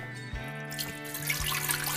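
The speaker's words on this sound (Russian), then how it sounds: "а теперь нам нужно взять литр воды, налить в мультикухню" A litre of water poured into a multicooker pot in a home kitchen, a steady continuous trickling pour that swells in brightness toward the end, alone with no talking.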